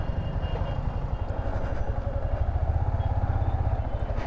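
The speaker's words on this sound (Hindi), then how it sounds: "बहुत स्मूथ चल रही है भाई, भाई बहुत स्मूथ चल रही है बाइक।" A Yamaha MT15 motorcycle is ridden at moderate speed after an engine rebuild at 70,000 km, giving a close, steady, low engine drone with a fast, even pulsing beat and no other sounds over it.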